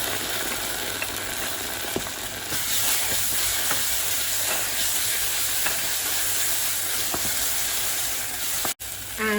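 Tomato paste goes into a hot pot with fried onions and vegetable oil, and a loud, dense sizzle and hiss carries on steadily with faint scraping and stirring underneath.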